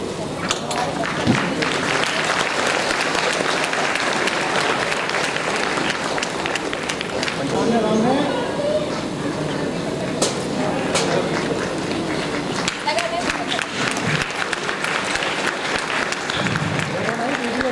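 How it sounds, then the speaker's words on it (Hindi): A crowd gives steady, dense applause at a birthday cake-cutting ceremony at a centre in Hardoi, continuous clapping filling the room with some voices mixed in. "तालियां बजाइए।"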